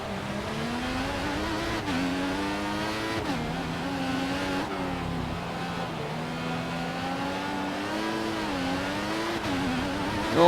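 Formula 1 race car engines in the F1 2014 video game at the Spanish Grand Prix, a loud continuous high-pitched whine that rises and falls through gear changes, with several cars running close together.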